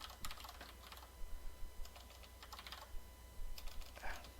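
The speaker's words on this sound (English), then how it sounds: "if I can type" Quick bursts of fingers tapping a computer keyboard, light irregular clicks at close range over a low steady background hum.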